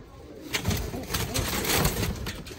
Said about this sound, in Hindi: काले रोजे पट्टी वाले कबूतर हैं, ये बहुत तेज़ कबूतर हैं